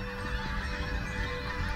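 A flock of pink-footed geese honking continuously overhead on the North Norfolk coast in winter, many overlapping calls forming a dense, fairly loud chorus with no talking.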